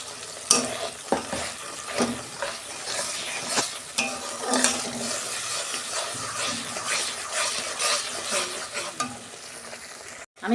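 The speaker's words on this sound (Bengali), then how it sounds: "এইটা আমি একটু কষাবো" Spices and ground paste for palak paneer sizzle and fry in a pan while a spoon stirs and scrapes them. Sharp scraping strokes repeat irregularly over a constant hiss, up close and with no talk.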